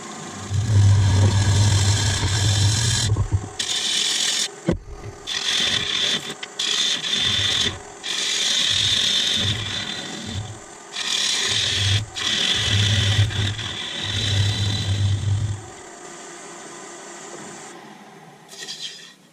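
A woodturning lathe cuts a tenon on a large sapele plate, giving bursts of rasping, scraping tool contact over a steady spinning drone, with brief pauses between passes before the lathe winds down.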